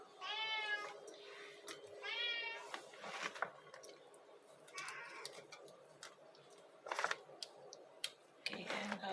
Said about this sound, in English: our cat, guys, are really crying now.